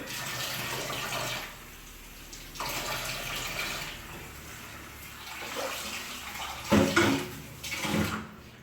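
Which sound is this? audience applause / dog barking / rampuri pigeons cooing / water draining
water draining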